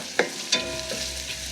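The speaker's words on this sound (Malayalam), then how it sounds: "ഇതിലേക്ക് ഞാൻ ഇഞ്ചി ചതച്ചെടുത്തത്, ഇതൊരു 3 ഇഞ്ച് നീളത്തിലുള്ള ഇഞ്ചി ചതച്ചെടുത്തതാണ്." Crushed ginger sizzling in hot oil for Kerala-style mutton biryani, stirred with a couple of sharp scrapes of the spoon near the start, then a steady loud frying hiss alone.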